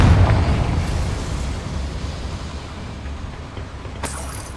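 A loud, booming blast from the Confringo fire spell in Hogwarts Legacy rolls out and fades into a low rumble, with a sharp crackle near the end.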